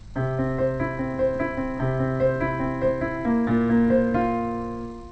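Piano chords from a song played in a flowing broken pattern, shifting smoothly from one chord to the next over a few seconds.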